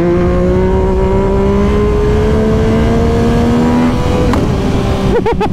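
A 2024 Yamaha MT-09 motorcycle engine revs up as the rider lifts the front wheel, a loud rising drone heard up close from the rider's seat, with a brief burst of higher revs at the end.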